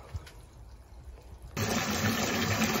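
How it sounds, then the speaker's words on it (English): Cold water being poured from buckets into a barrel, a low trickling background that abruptly becomes a loud, steady, full-bodied rushing gush halfway through, close and sustained with no speech. "Try to fill the barrel up that little bit quicker. So I'm going to chuck a few buckets of cold water in as well."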